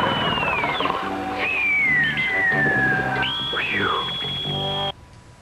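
A shrill cartoon whistle in Gilligan's Planet sounds in long sliding tones over a busy animated soundtrack, ending abruptly.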